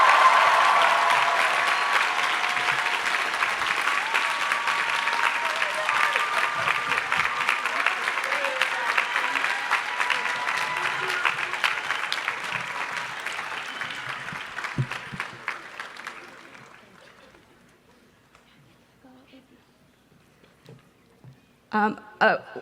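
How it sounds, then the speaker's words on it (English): Graduation commencement audience at UC Santa Cruz's College Nine and John R. Lewis College ceremony breaking into long, dense applause with some cheering, sustained loud for about fifteen seconds before fading out, followed by a few brief sounds near the microphone. "Another round of applause and congratulations for Ariel Silva"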